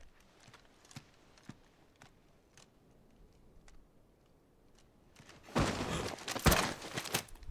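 Horse hooves clip-clop in the Final Fantasy 16 video game: faint, sparse knocks at a slow walking pace, then a louder burst of rustling noise near the end.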